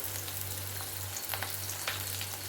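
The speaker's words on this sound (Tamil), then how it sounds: "நல்லா வெங்காயம் வதங்கட்டும்" Onions sautéing steadily in a hot pan for a cauliflower dish, a soft continuous crackle over a low hum, with no talking.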